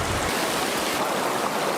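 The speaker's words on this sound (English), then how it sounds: "you can see the water is already flowing pretty swiftly" Lytle Creek running fast and swollen ahead of Tropical Storm Hilary, a dense continuous rushing roar of water, loud and close, with no voices.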